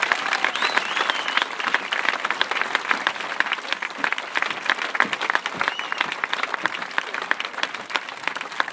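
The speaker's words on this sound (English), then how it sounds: "I just want to give him a round of applause right now" A crowd at an outdoor gathering before the national anthem applauds in honor of a man named Sean, continuous clapping with scattered cheers and voices rising over it.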